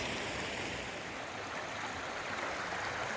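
A creek at a river crossing on the Pacific Crest Trail near White Pass in the Mount Rainier wilderness, with water flowing in a steady, broad rushing wash, continuous and fairly close, and no voices.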